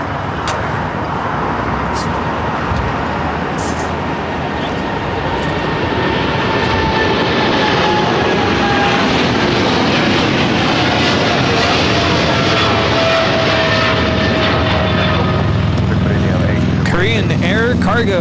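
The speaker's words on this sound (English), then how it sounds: "Cargo 8208 taking off to Seoul on the 777 freighter." Boeing 777 freighter taking off at LAX, a sustained loud jet roar that swells and holds across the whole stretch, with rising engine whine tones and faint voices talking over it.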